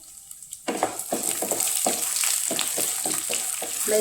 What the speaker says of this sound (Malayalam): ഉഴുന്നുപരിപ്പ്, നിലക്കടല, കശുവണ്ടി എല്ലാം കൂടി നന്നായി ഇളക്കി കൊടുക്കുക.